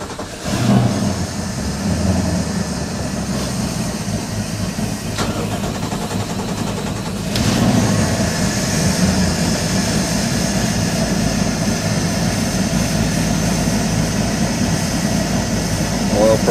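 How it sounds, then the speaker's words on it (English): Engines on a 29-foot Baja boat, 496-powered, crank and catch, then settle into a steady, loud idle rumble that swells slightly partway through and holds evenly to the end. "These engines will idle at about 800 when I start them"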